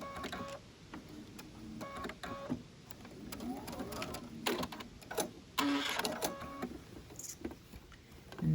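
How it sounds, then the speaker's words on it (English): Home sewing machine stitching fabric for a carry-all organizer, whirring in short runs broken by pauses, with scattered clicks and handling noises, fairly quiet and close. "we just want to sew right up to the edge of that bottom."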